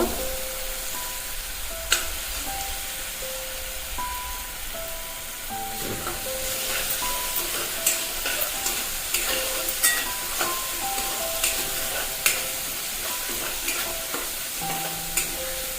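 Asafoetida and spices are stirred in a hot frying pan while making spicy kat vada rasa: a steady oily sizzle broken by repeated scraping clicks of the spoon against the pan, with faint music underneath and no talking.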